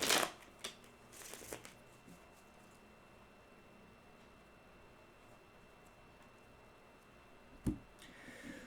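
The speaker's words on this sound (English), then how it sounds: "on the bottom of this deck, as I shuffled and released" A tarot card deck is shuffled in quick riffling bursts near the start and again briefly toward the end, close and crisp, with quiet handling in between.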